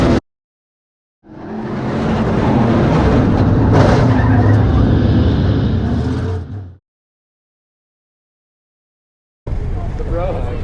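A dirt track modified race car engine roars loudly for several seconds, then cuts out to silence before another burst of engine noise begins.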